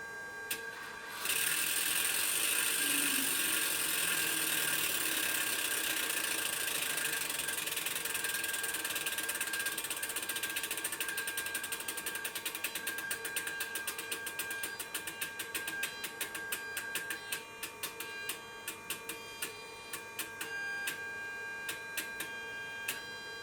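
Stepper motor in a Sperry MK9 compass computer making heading corrections: a rapid train of fine mechanical ticks over a steady electronic whine, becoming sparser and more stuttering toward the end, with no talking.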